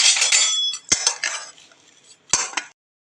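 Raw mango pieces and jaggery stirred together for pickle in a metal vessel, a spoon scraping and clinking in loud bursts with short pauses and two sharp knocks, then sudden silence at the end.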